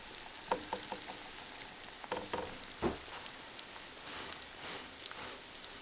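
Potato and corn grits cakes fry in oil on a hot pan outdoors in a village, giving a steady, quiet sizzle with scattered crackles and pops and no voices.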